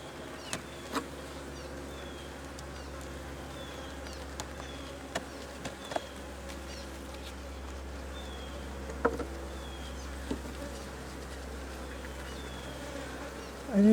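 Honey bees buzzing around an open hive during an inspection done without smoke, a continuous soft drone with occasional louder bees passing close, faint birdsong in the background.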